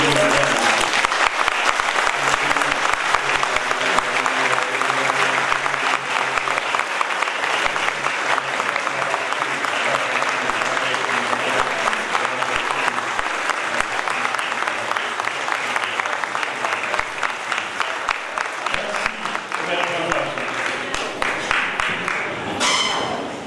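Sustained, dense applause from a large church congregation filling the whole stretch, steady and loud throughout with no pauses.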